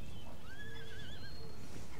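A cavalry horse whinnies in the Empire: Total War battle, a thin, wavering neigh that rises and falls over a constant noisy wash of battle ambience.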